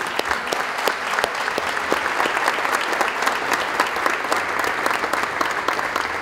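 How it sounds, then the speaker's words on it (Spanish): Steady audience applause fills a speech event, dense clapping heard close and continuous throughout with no talk over it. "Un aplauso para Martín."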